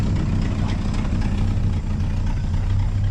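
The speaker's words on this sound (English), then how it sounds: "Idles perfectly." A 1961 Cadillac engine idles with a steady low rumble and a slight exhaust leak, close and constant throughout, no voices.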